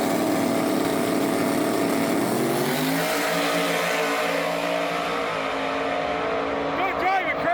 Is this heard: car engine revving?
yes